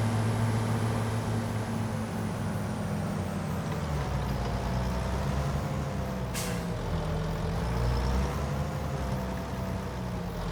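Heavy truck engine idling loudly in Farming Simulator 25, with steady low rumble throughout and a sharp hiss of air brakes around the middle, no talking.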